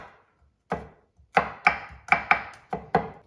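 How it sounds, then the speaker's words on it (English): A knife minces four garlic cloves on a board, delivering one isolated chop followed by a quick run of seven sharp, close knocks at an uneven, rapid pace with brief silences between. "Mince 4 cloves of garlic."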